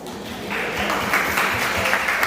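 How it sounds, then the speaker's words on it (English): Women's awards gala audience rising to their feet and applauding themselves, a dense wash of clapping that swells after a quieter start and holds steady, close and fairly loud. "I would like to ask us to please stand and give ourselves a round of applause"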